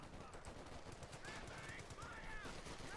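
Machine gun fire in Company of Heroes 2, a battle between OKW and USF forces, as dense rapid bursts that rattle steadily beneath a busy mix of battlefield effects, moderately loud throughout.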